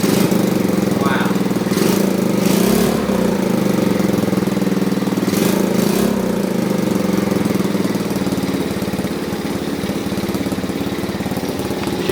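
A Honda Trail 70 motorcycle engine with an exhaust leak runs continuously at a steady idle, loud and close, with a rough, knocking putter and a few brief clatters.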